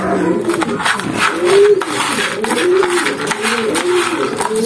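Racing pigeons cooing in a loft, repeated low throaty coos overlapping close by, with someone talking over them.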